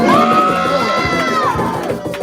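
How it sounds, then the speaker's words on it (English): A concert crowd cheers and shouts loudly and continuously at a jam-band show, with voices and whoops rising together close by over a steady roar. "Can you clap for yourself, please?"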